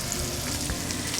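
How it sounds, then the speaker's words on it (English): Blackened salmon sizzles and spits in a hot oiled pan, a steady loud frying crackle with bright pops running throughout, no voices. "So always put your product away from you as you hear that sizzle"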